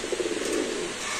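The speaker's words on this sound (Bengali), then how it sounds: "এই যে কবুতর ডাকতে ফেরে কি ভাই" Pigeons at a busy pigeon market give low, rolling coos in a steady pulsing run, close by, under a constant wash of crowd noise.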